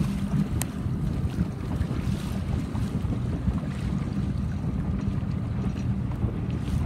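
A coach boat motor drones steadily at a sailing regatta under heavy wind buffeting on the microphone, with water noise throughout and no talking.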